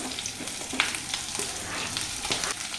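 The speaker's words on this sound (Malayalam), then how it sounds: "ഇനി ഇതിലോട്ട് ഉള്ളി ഇടുക." Onion goes into hot oil in a pan while potato stir-fry is made, and a soft steady sizzle follows with a few light stirring taps, close and with no voices.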